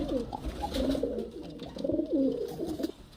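Soft, throaty cooing of Giribaz and Kalshira pigeons in repeated rolling phrases, close by, with faint background noise and no talking.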